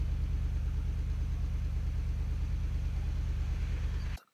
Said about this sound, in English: ask someone to rev up the engine a little bit so you can check the colored gas